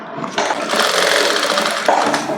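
A sewing machine runs in a steady continuous whir, stitching around the neckline of a princess-cut blouse, loud and close throughout.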